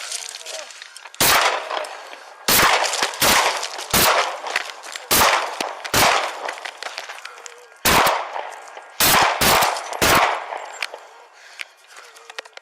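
Gunshots fired during a police shooting captured on a Phoenix police body camera: about ten loud, sharp cracks in irregular bursts, some in quick pairs, with shouting between them.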